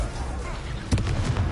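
A Confringo fire spell explosion in Hogwarts Legacy: a sudden loud blast about midway that booms over dense battle noise and a character shouting.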